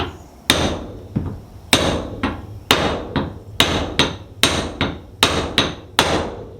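A hammer striking a part flush during a transmission repair, about a dozen sharp metallic blows in uneven clusters, loud and close, each ringing briefly before the next, with no talking.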